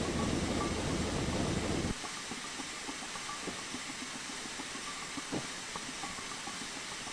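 Steam train running in Train Simulator 2015 on the Ponidzie route: a loud hiss opens, then a steady rumble with regular clacking wheel beats continues.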